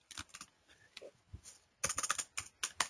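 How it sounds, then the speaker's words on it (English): Quick, light keystrokes tap out on a computer keyboard while a comment is typed, close and fairly quiet, starting in scattered taps and then running into a denser burst. "you can type here, this is my comment"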